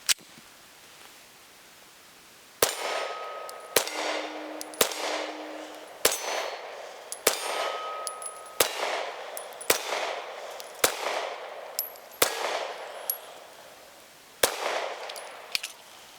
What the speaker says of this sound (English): you should be able to hear the tings when I hit something